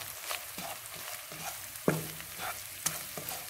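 Spices being stirred into garlic-ginger paste frying in a pan for a mung dal tadka, a steady sizzle punctuated by several sharp spoon clinks and scrapes against the pan, close and alone.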